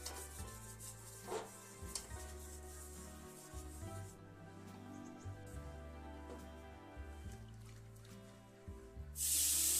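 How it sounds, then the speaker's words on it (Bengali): A brush lightly spreads oil across a kadai (wok) while pitha are being made, giving a soft steady rubbing and swishing over a low hum, fairly quiet and without talk. "হালকা একটু তেল ব্রাশ করে দিলাম"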